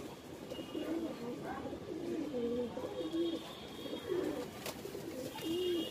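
A male Lakha pigeon in a breeding setup coos repeatedly, soft low rolling calls close by, several in a row over faint background noise.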